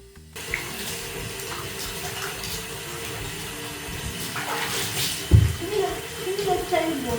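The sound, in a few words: shower water running while bathing a rabbit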